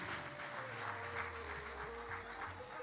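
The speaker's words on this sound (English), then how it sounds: "A big round of applause for Bamayoba Mumbi Phiri." Applause from the crowd at a Patriotic Front virtual campaign rally in Zambia, a steady moderate wash of clapping with a low hum and tonal background underneath, no talk.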